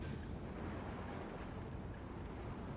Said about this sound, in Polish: Nasza flota też odpowiada ogniem.